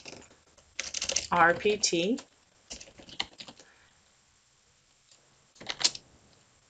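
Keys clatter on a computer keyboard in a few short bursts of quick typing, close and fairly crisp, separated by quiet gaps, while a voice speaks briefly between them.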